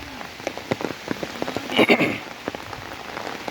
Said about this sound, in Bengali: চব্বিশ ঘন্টা বৃষ্টি এক সেকেন্ডের জন্য বৃষ্টি অনবর্ত বৃষ্টি চলতেছে